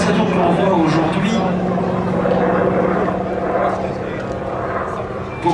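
A Corsair F4U-5 propeller fighter drones at an air show, a loud throaty engine roar with rising and falling pitch under continuous speech in French.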